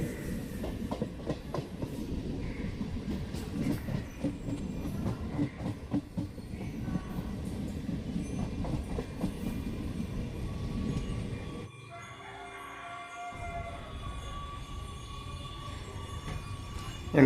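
A train rolls along between stations on a route from Arakkonam, with a steady rumble and clickety-clack of wheels that drops suddenly near the end, no talk.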